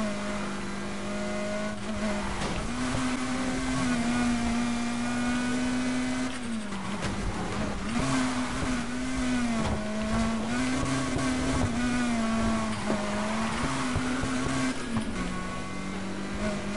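A car drifting in Need for Speed Heat: a loud, steady engine drone held at high revs, dipping and recovering in pitch several times as the car slides, with no talking over it.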